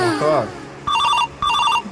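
An incoming call sets a phone ringing with two bright electronic ring bursts in a steady pattern, following a brief stretch of speech at the start.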